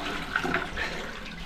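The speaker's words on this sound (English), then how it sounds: "I'm going to make sure I flush this toilet a good few times whilst we're here" A toilet flushes during work to clear a badly clogged drain, a fairly close, steady rush of running and gurgling water that keeps a moderate level throughout with no voices.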